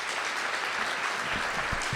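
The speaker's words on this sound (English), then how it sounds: "A big round of applause over here to John Gesselmino and Lorenzo Cordoba." Live theater audience at a stage show gives a brief round of applause, moderately distant and steady throughout the short burst.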